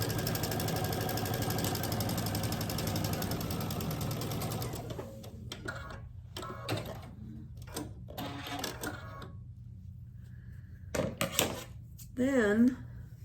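A sewing machine stitches a quarter-inch seam on a quilt block, a steady fast mechanical whir for several seconds, then stops, followed by quieter handling clicks and a voice talking.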